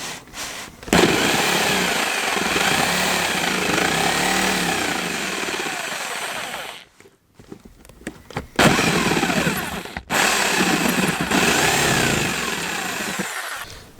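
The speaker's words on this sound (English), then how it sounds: "I'm going to try and do it with a jigsaw." A jigsaw cuts a porthole opening in the steel hull of a narrowboat with a loud, harsh, buzzing rasp. It stops once partway through, then resumes and runs steadily to the end.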